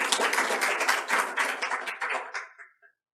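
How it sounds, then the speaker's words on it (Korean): Dense applause from a crowd, steady and lively for a few seconds, then thinning out and fading into silence. "모두 박수로 맞이해 주시기 바랍니다"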